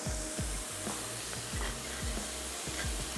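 Oil sizzles steadily in a pan with shredded beef being cooked for tortillas, a dense continuous hiss with repeated low scraping stirs throughout.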